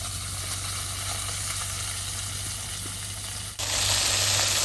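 Fish frying in hot oil while cooking outdoors in a village: a steady, dense sizzle fills the whole stretch without pause, then jumps louder and brighter near the end, with no talking.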